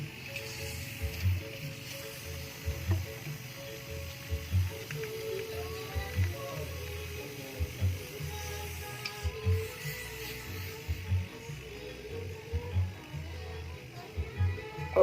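A vacuum pump evacuating the condenser pipes of a Sharp refrigerator, a steady mechanical drone with a regular pulsing thump about every 1.6 seconds, close and moderately loud, with faint background sounds.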